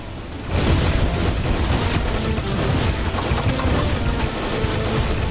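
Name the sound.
missiles fired in the video game Terraria Calamity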